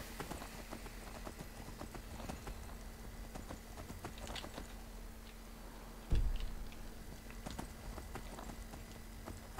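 Horse hooves clip-clop steadily in the video game Skyrim, a quick even galloping rhythm, fairly faint and continuous, broken by one brief thump partway through, with no talking.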